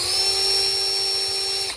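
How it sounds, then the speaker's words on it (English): A cordless electric drill spins tight bolts in and out of their threads while a 2010 Range Rover 4.4 TD starter motor is being repaired. One steady high-pitched whine runs loud and close, then cuts off at the end. "so I've just stuck them on the electric drill"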